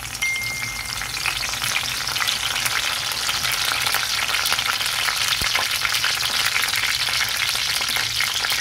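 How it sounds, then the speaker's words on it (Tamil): Dried red chillies and curry leaves frying in hot oil, a loud, continuous crackling sizzle, close and steady throughout with faint stirring. "இது கூட காஞ்ச மிளகாய், கறி லீவ்ஸ் ஆட் பண்ணிக்கிறேன்."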